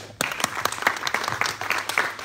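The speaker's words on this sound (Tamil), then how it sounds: "இவங்க எல்லாத்துக்கும் ஒரு பெரிய கைத்தட்டலோட" Applause from an audience at a press meet: many hands clap in a steady, dense patter with sharper individual claps standing out, fairly close and sustained, with no talking over it.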